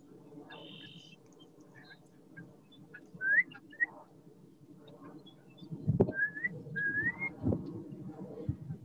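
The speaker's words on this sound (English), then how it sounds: "You can hear birds." Birds calling outdoors in an open-space preserve near the Diablo Range, a few short clear whistled chirps and trills over a steady low background hum, with louder thumping handling noise near the end.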